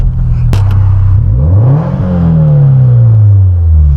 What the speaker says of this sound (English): I'll do a couple revs at a standstill right here.